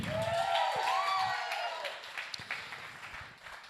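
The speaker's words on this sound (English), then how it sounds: "And another huge round of applause for Waylon Whiskey." Audience at a live stand-up comedy show claps along, loud at first and then tapering off into scattered claps, with a whistle over the opening seconds.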